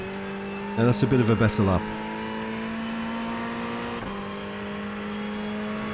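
A Ferrari 488 GT3 Evo in iRacing holds a steady, droning engine note while someone talks over it briefly. The pitch dips once mid-run, then settles back into a sustained tone.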